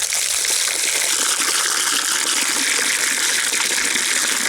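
Fresh water pouring steadily into a rooster's water dish on a hot day, a continuous loud gushing splash with no pauses.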